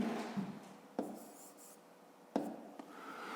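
Pen strokes of an answer being handwritten on paper, a soft continuous scratching with a few sharper taps as the pen is set down or lifted, close and quiet with no talking.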